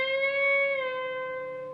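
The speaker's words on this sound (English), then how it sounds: "You're going to pick it, and then after you picked it, you're going to bend it up a full step" A single electric guitar note rings steadily after being bent up a full step, then glides smoothly down in pitch as the bend is released, sustaining alone at moderate volume.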